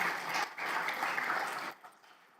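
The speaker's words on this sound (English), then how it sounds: "round of applause for everyone for coming out here today and joining us" Applause from the audience at a county state-of-the-county address, a dense wash of many hands clapping that fades off near the end, fairly faint and distant.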